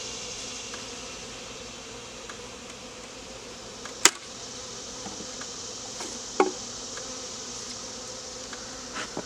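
Honey bees swarm around an opened hive in a steady, faint, high buzzing drone, with a few soft knocks and clicks from the hive being worked.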